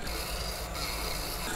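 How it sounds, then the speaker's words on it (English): A sanding barrel on a rotary tool running at low speed strips powder coat from a metal pedal cluster part, giving a steady close rasping rub that continues without pause throughout. "Just want to remove all the powder coat off there."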